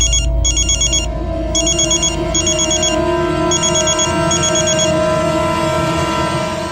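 A phone ringtone rings loudly in repeated electronic bursts with short gaps between them, heard close and alone over a steady background hum.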